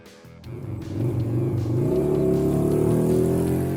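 Yamaha V Star 250 motorcycle engine revving up from a brief quiet start into a steady, loud, close-up rumble with a low throbbing drone that holds and slightly rises in pitch.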